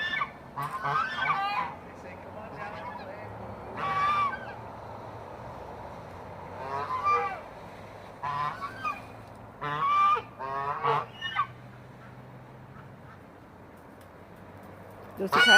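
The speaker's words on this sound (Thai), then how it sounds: "ห่าน เลี้ยงไว้นะคะ" A pet goose honks in repeated short bursts at varying gaps, fairly close, while someone talks in between the calls.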